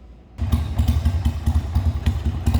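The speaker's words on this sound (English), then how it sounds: "Let's fire this bike up, and then I'll just get it running." A 2000 Harley-Davidson XL883 Sportster engine catches after a short silence and settles into a loud, close, lumpy V-twin idle with uneven thudding pulses and mechanical clatter.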